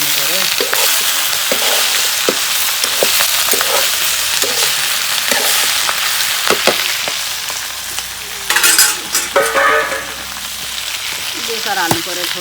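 A spoon stirs cabbage and other vegetables around a hot pan in a home kitchen, a loud sizzle carrying repeated scraping and clattering strokes, with a brief burst of stronger hissing near the end.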